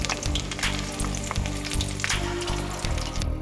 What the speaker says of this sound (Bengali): এই দেখো, এইভাবে মাছগুলো আমি ভেজে নিয়েছি। এবার তুলে নিচ্ছি।